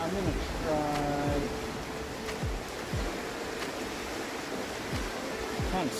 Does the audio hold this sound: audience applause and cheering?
no